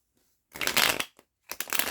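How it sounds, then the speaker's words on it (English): A tarot card deck is shuffled close up in two quick, crisp riffling bursts separated by a brief pause, with no talking. "apparently this deck does not want to be shuffled that way"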